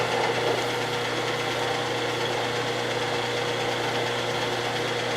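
A machine tool runs slowly in back gear while tapping a hole, giving a steady low mechanical hum with a constant drone and faint vibration, close and unbroken, with no talk.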